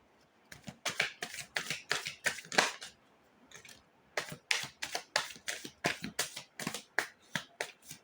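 Tarot cards being shuffled in repeated quick riffles and snaps, close and crisp, in two bursts separated by a brief pause, with no talking.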